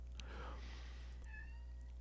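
A cat gives a short, close meow over a constant low electrical hum, followed by a fainter second call.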